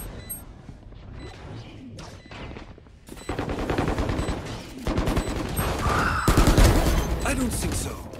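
Dense, loud bursts of shotgun and other gunfire crash over each other during a GTA roleplay shootout, with a player talking over the chaotic exchange.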